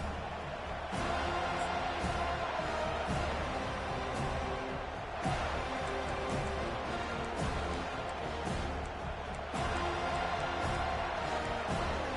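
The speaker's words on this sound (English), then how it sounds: "this crowd coming to life here, trying to help the defense get a stop with the offense pinned back" Stadium crowd in the College Football 25 video game, a steady roaring wash of cheering and noise swelling at moments, with a few thumps, filling the background.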